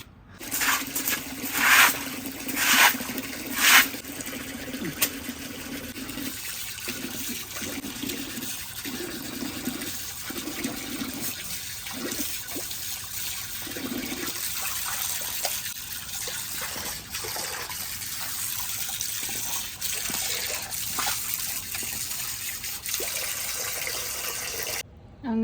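Tap water runs steadily and fairly quietly for a long stretch while jackfruit seeds are washed, with some louder splashing near the start.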